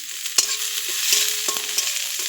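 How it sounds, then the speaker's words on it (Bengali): Chopped onions sizzle in a hot kadai, a close and steady hiss broken by several sharp scrapes and taps as a spoon stirs them. "আমি এই যে পেঁয়াজ কুচিগুলো কড়াইয়ের মধ্যে দিয়ে দিয়েছি"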